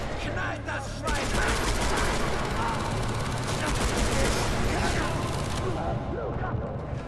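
Dense, sustained gunfire from a Far Cry 3 firefight, with rapid automatic bursts and booming shots layered continuously for several seconds, loud and close, thinning out toward the end.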